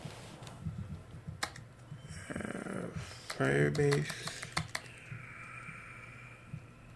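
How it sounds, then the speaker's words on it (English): Typing on a computer keyboard by a blind developer working in code, irregular clicks and key taps mixed with a nearby voice speaking over them and screen-reader-like speech. "I'm going to start typing"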